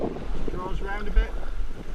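Wind gusts over the French River at Little Pine Rapids while canoeists paddle through high water. The low buffeting rumble hits the microphone, and a voice is heard talking over it.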